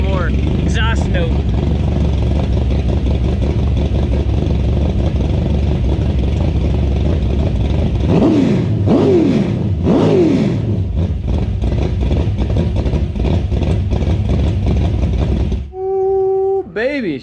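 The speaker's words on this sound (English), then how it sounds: "Put you guys back here for a little more exhaust note." A loud, close IMCA stock car engine rumbles steadily, then revs up and down in several sharp sweeps before cutting off, leaving a brief higher mechanical whine.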